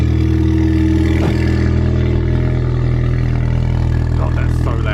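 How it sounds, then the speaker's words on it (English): A car with a rattling exhaust starts and settles into a loud, steady idle, its deep rumble carrying a persistent metallic buzz, with a voice speaking briefly over it. "Let's just start her up for the second time in like 2 weeks."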